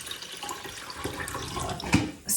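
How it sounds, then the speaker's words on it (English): Filtered water runs and splashes into a bowl of rice being soaked for mango sticky rice, a soft continuous trickle with a brief louder gush near the end, heard up close without talk. "we need to soak rice with clean water"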